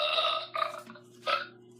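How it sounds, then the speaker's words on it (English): A burp sounds as a few short voiced croaks, close and fairly loud, in separate bursts against a quiet background. "Peach, you burped."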